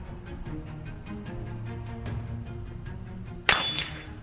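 A Winchester 1890 rifle round strikes a small steel target, a single sharp metallic clang ringing out near the end after a quiet stretch of background noise.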